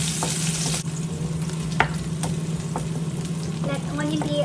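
Chopped onion frying in a pan over medium heat for a bitter gourd (karela) dish, a steady close sizzle with occasional stirring clatter and spoon scrapes, no talking.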